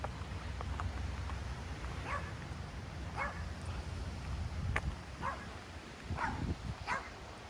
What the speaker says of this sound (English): Little puppy dogs out here.